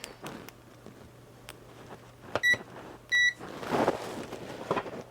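Two short electronic beeps from a continuity tester with bright, clean tones, separated by a pause, over a quiet room with faint tapping and handling noise.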